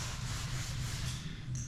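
Sandpaper scrubs steadily over still-tacky fresh matte black paint on the roof of a Chevrolet Caprice, a close, continuous rasping with no pauses and no talking.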